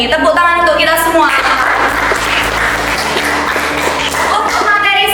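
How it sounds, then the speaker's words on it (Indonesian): Students in a high school classroom break into broadband applause that swells through the middle of the stretch, with voices and tonal sounds before and after it. "Tepuk tangan untuk kita semua."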